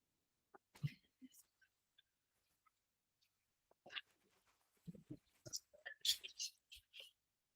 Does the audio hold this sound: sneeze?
yes